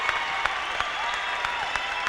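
A crowd applauds steadily after a submission win by Peter Duncan over Bryan Goldsby at a CWC grappling event: dense, continuous clapping with scattered sharper claps, fairly loud and with no talk over it.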